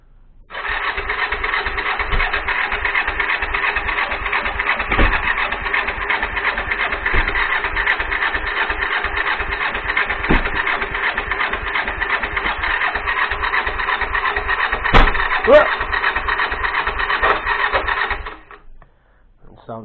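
A Kawasaki GPZ 500 engine fitted in a road-legal buggy, unused for ten years, runs on choke with a steady, loud, rough drone and faint irregular knocks, then cuts out near the end.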